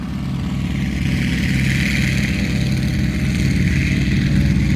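An M4A1 Sherman tank, built by Pacific Car and Foundry, runs its 9-cylinder radial engine: a loud, close, steady rumbling throb that holds evenly throughout with no voices.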